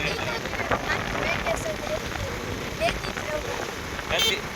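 Steady rain falls outside during a stormy night of wind and hail, a dense even patter of drops on surfaces with no voices, moderately loud throughout.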